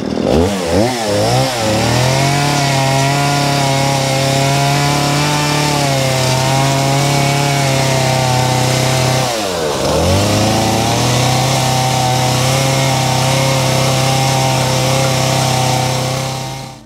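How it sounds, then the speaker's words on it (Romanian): A chainsaw cuts wood in a cow barn, loud and close, revving up at the start, holding a steady drone, then dipping and surging again midway. "pornim din nou drujba și curățăm cu ea frumos acolo"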